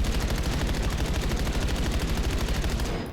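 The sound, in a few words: gunfire volley in video game Black Ops 7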